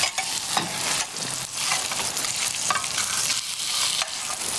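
Burgers sizzle and fry in a pan, a steady bright crackle with occasional stirring and scraping bursts, close and continuous throughout with no talk.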